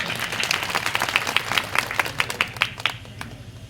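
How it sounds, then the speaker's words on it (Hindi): A village gathering at Saliya gram panchayat claps to welcome MLA Jaikrishna Patel, a crisp burst of crowd handclaps over open-air background noise, tapering off near the end. "विधायक बागुदरा तालियों से स्वागत करें"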